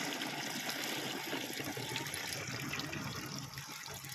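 Liquid fertilizer mix of Agromaster 20-20-20 for a tomato crop is poured into a drip irrigation system, giving a faint, steady trickling and splashing of liquid throughout with no speech.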